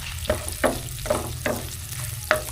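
Garlic and onion frying in a pan while being stirred, a steady sizzle broken by five or six sharp scraping strokes of the spatula at an even rhythm, close and fairly loud.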